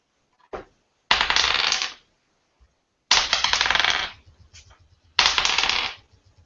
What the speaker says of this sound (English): I don't think I've ever been so happy to hear so many dice rolls.